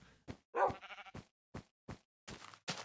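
Sheep in the Minecraft video game bleat in a series of short, separate calls with silent gaps between them, clear and close.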